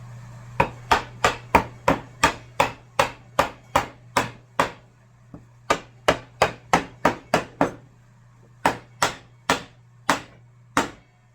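Steady run of sharp hammer blows on wood scraps during shelf building, evenly spaced in quick bursts with short pauses between groups, close and clear over a low steady hum.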